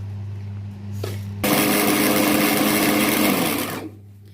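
An electric grinder processing sesame, peanuts and flour, starting with a loud whir that holds steady for about two and a half seconds before winding down, with a low steady hum before and after.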